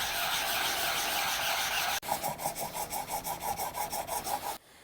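A vintage hand plane blade rasps against an 800 grit whetstone, first in a continuous grinding stretch and then in a quick, even run of back-and-forth strokes that stops abruptly.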